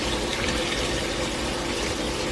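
Roughly six cups of water pour into a pot of Jamaican oxtail in one continuous, dense, close rush that fills the whole short span without a break and without any voices.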